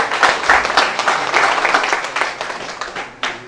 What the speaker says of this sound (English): I would like to have a round of applause for her.